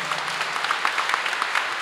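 Sustained applause from an audience at a literary award gala, a dense, even patter of clapping that fills the hall without pause.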